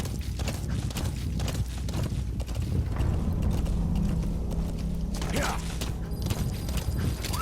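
Horse hooves gallop in Metal Gear Solid 5, a busy run of rhythmic thuds mixed with mechanical game effects, with a rising tonal sweep near the end.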